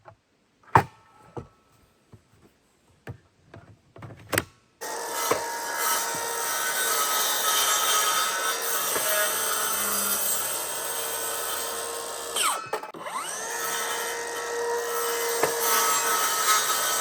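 A circular saw with an electric brake cutting a groove in a wooden board: a few sharp knocks and clicks, then a loud sustained whine as the blade bites, a brief dip mid-cut, and the cutting resumes.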